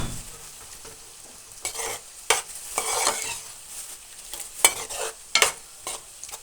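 Milk added to a cooking pan and stirred: close sizzling and frying with irregular scraping strokes and a few sharp utensil knocks, without speech.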